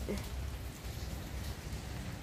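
Steady rainfall outdoors in a garden with potted plants such as a talisay tree and mint, a dense even hiss of drops on surfaces close by, continuous and fairly quiet, with no voices.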